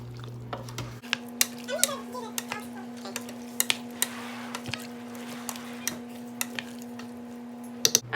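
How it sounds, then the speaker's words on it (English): Meat sautéing with onions and green chilies in a pot for keto chili verde stew, a spoon giving scattered light clinks and scrapes over a steady low hum, fairly quiet and close. "I'm going to go ahead and throw in the onions and the green chilies. And just mix this and keep sauteing this just for a little bit longer."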